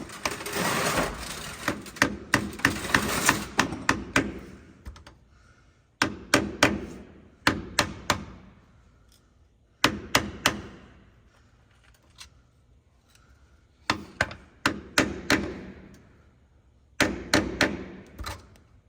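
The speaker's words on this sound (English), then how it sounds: "we can just get a flathead screwdriver behind here, tap, tap, tap a little bit" A flathead screwdriver is tapped behind the front pinion seal of a 1979 Chevy K10 truck, giving bursts of sharp metallic taps in quick clusters, separated by short pauses, close and fairly loud.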